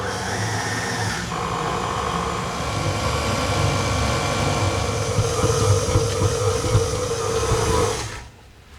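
A stand mixer kneads bread dough with a dough hook at medium speed, a steady loud motor whir with a rhythmic churning drone that runs unbroken for several seconds before cutting off near the end.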